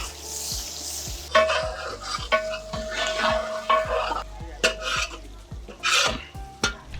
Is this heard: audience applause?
no